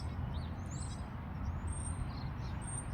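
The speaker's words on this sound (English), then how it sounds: "Hear the birds, hear the wind." Faint, scattered bird chirps and trills ring out high above a steady low rumble of wind, with no voices.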